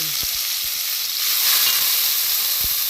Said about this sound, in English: So it's pretty noisy. I'm just going to have this bit sauteed.